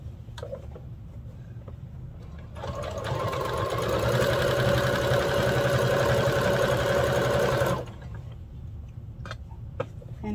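A sewing machine runs close by while holiday pajamas are sewn, with a steady mechanical whir lasting about five seconds that starts and stops abruptly, and quiet room sounds before and after.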